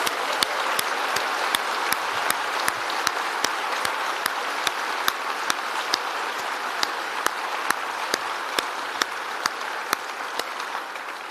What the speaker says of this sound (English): Maybe a round of applause to our PhDs and their supervisors.